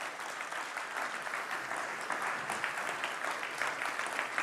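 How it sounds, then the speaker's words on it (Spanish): Steady applause from a church congregation fills the space, a dense, even wash of clapping heard alone at moderate level with no talk over it. "Dale un aplauso."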